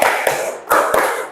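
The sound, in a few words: clapping hands, applause for a class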